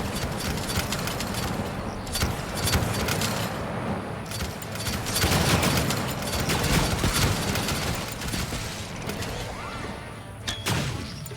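Flamethrower defenses firing in Stranded: Alien Dawn: dense, rumbling bursts of roaring flame with crackling thuds and mechanical clatter, swelling and fading over several seconds at fairly loud level.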